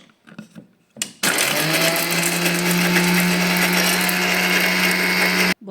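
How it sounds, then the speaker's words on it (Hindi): After a few faint knocks, an electric kitchen grinder starts up and runs loudly and steadily with a high whirring whine as it coarsely grinds ingredients for laddu, then cuts off abruptly. "बस में देखिए अभी ये ग्राइंड कर लेते हैं।"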